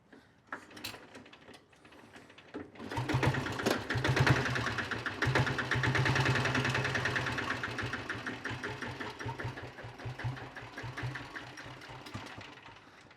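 Diesel Bullet motorcycle engine catches after a few turning attempts and settles into a steady, loud, close-up idle with a fast rhythmic knock.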